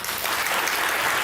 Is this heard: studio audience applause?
yes